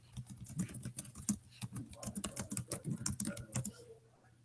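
Quiet, rapid clicking of keys on a computer keyboard, an irregular run of soft close taps that stops near the end.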